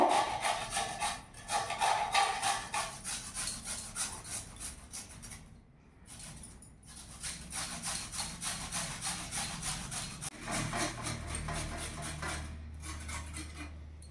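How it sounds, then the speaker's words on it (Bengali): A peeled radish rubbed against a hand grater in quick repeated rasping strokes, close and fairly loud, with a brief pause midway before the scraping rhythm resumes. "এরপরে এরকম একটা গ্রেটারের সাহায্যে এইভাবে মূলোটাকে আমি গ্রেট করে নেব।"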